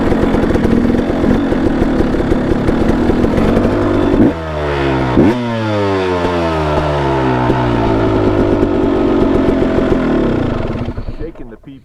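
A motorcycle engine idles and runs nearby, with a loud steady rumble and a clear rev that rises and falls partway through before the sound fades out at the end.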